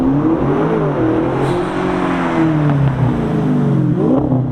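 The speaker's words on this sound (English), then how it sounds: "It's a V8 with twin turbos." A German Audi twin-turbo V8 revs loudly up and down, its deep harmonic engine note rising and falling in pitch several times, close and continuous with no voices over it.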